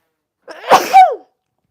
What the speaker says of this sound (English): Excuse me, y'all, I had to sneeze.